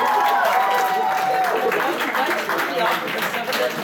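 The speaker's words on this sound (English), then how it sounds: "Give a round of applause." An audience at an anime convention game show applauds, with a fairly loud wash of clapping and crowd noise mixed with voices throughout.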